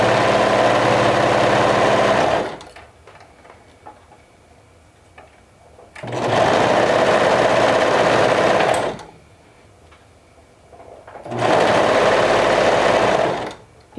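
Sewing machine stitching fabric along aligned raw edges, running in three loud bursts of a few seconds each, separated by near-silent pauses.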